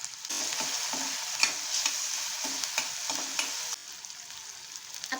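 Onion and tomato frying in a pan for Maharashtrian-style matar paneer, a soft steady sizzle broken by repeated scraping stirs.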